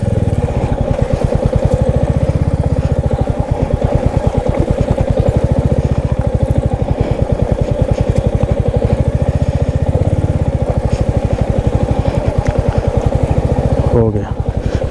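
A Royal Enfield Meteor 350 motorcycle engine chugs steadily up close on a mountain road, with a rapid, even putter throughout, loud and continuous, with a brief clatter near the end.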